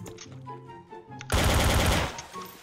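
Automatic gunfire in Garry's Mod: a loud sustained burst of rapid shots lasting under a second, preceded by quieter game sounds and trailing off afterward.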